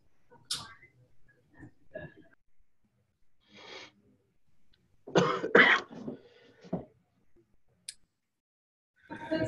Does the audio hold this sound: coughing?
yes